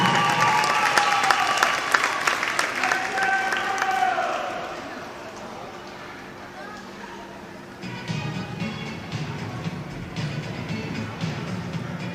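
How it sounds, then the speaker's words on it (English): Audience applause at a 10-and-under divisional swim meet awards ceremony, a dense, steady clapping from a crowd in an indoor pool hall, loud at first, easing slightly, then swelling again, with some chatter mixed in. "Have a round of applause for our girls 10 and under 100-yard butterfly top 8 finishers"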